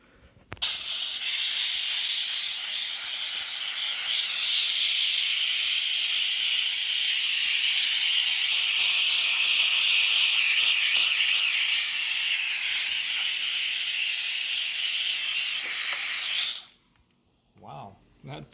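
A Grant's handheld steam cleaner sprays steam onto window glass as a loud, steady, close hiss lasting about sixteen seconds. It then cuts off abruptly, leaving brief faint handling sounds.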